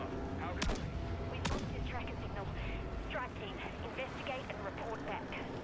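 Gunfire in MW3 Zombies, Dark Aether mode: a couple of sharp close shots early on, then a busy stretch of game effects while someone talks over the action.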